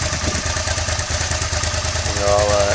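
A 2000 Suzuki SV650 motorcycle with its stock exhaust idles steadily up close with a deep, regular low-pitched thumping, slightly rising in level near the end.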